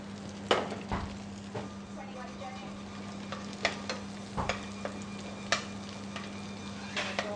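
Sea bass frying in a pan with olive oil gives a quiet, steady sizzle over a low electrical hum, with scattered clicks and knocks from utensils and pans.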